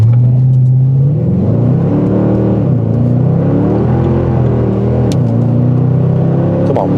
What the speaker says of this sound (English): Okay, let's try traction off to see if it'll put the power down.